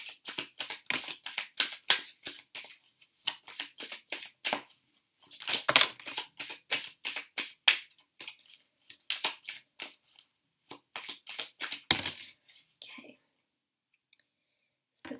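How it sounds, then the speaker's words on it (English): Tarot cards, somewhat stiff to shuffle, are riffled and shuffled in quick rhythmic bursts of crisp flicking, close and clear, with short pauses between rounds. "these cards are pretty hard to shuffle, but we will get there"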